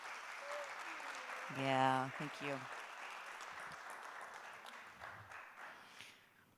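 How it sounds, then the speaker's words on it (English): University forum audience giving a round of applause that swells briefly and then thins into scattered claps, while a person speaks a few words nearby. "let's give her another round of applause."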